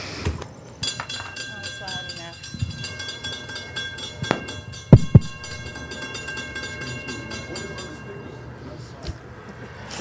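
A train passes close by during an outdoor gathering on Oakland Park's Main Street, a steady rumbling roar with sustained high metallic squeal tones and a few sharp knocks midway, running the whole length with faint voices underneath.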